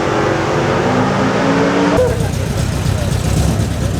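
A race car engine roars loudly up close as the car is driven, the tone dropping abruptly into a rougher, lower drone under braking, with a voice talking over it.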